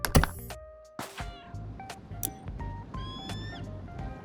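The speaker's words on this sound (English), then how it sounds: "There was definitely cat noise as I loaded in, like a little meow." A small cat gives several short meows in PowerWash Simulator, with bright pitched cries scattered over a low rhythmic background and a sharp thud at the start.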